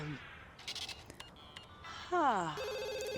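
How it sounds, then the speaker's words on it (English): A telephone rings in The Sims 2 video game, a bright repeating electronic trill that comes in loudly near the end, after assorted game interface blips and chimes. "we can go ahead and answer the phone"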